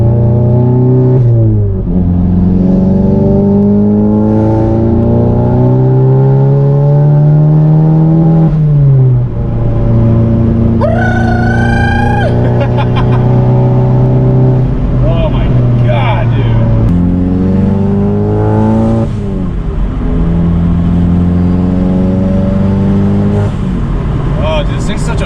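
A VW MK7 GTI or Golf R fitted with an IE turbo inlet, heard from inside as the engine climbs through repeated rising pulls with gear-change drops, loud and close, plus a brief whooshing turbo burst in the middle.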